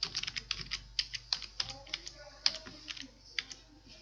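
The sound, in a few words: typing on a computer keyboard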